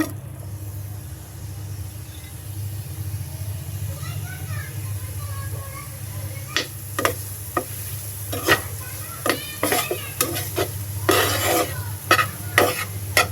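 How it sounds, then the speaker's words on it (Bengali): A steady sizzle of pointed gourd seeds frying in a pan, with sharp scraping and stirring clacks growing more frequent toward the end, over a low background hum. "এই কড়াইয়ের ভিতরে যে বিচিগুলো ছিল ওটা আমি এমনি ভাজি করে ফেলবো"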